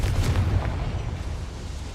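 A Confringo spell blast in Hogwarts Legacy, a heavy booming explosion with a deep rumbling burst that decays into a fading low roar, loud and close.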